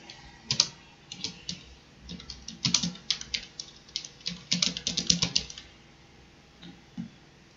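Typing on a computer keyboard, with a steady run of close, crisp keystrokes that speeds up in short bursts and then slows, alone in a quiet room.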